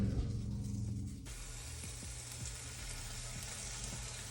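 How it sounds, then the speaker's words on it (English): Seasoned steaks searing in a pan over medium-high heat, a loud steady sizzle that jumps in abruptly after a second and holds, close, with faint crackles and no talk. "I want to get that quick sear, quick cook."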